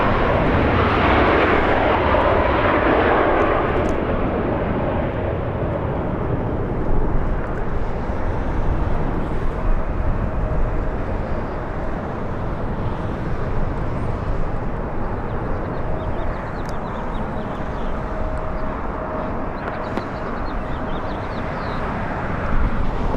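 A jet airliner climbs steeply just after takeoff from LAX, its engine roar loud at first and then settling into a sustained, broad rumble that fades slowly into the distance over twenty-odd seconds.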